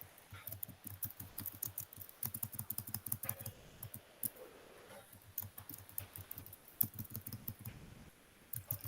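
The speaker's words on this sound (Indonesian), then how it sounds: "biar saya yang ngetik" Rapid typing on a computer keyboard during an online group meeting, with quiet, irregular clusters of key clicks running steadily throughout and no talking.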